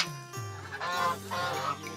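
Muscovy ducks in a poultry coop give hoarse, drawn-out honking calls, a few overlapping notes rising and falling, close and fairly loud with no talking.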